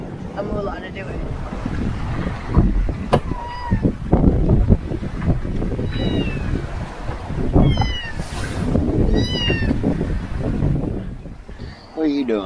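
A cat meows a few times, short and rising, aboard a sailboat offshore in the Gulf of Mexico, over steady wind, water rush and boat noise, with people talking nearby.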